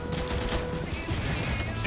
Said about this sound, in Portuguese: Eu acerto o primeiro tiro com essa scout